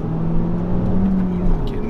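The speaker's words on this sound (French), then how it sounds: "c'est un moteur turbo, là on attend que ça parte et d'un coup" A Peugeot 208 GTI's turbocharged engine builds under acceleration from inside the car, a loud sustained drone with a rising whir as the turbo spools, no talking.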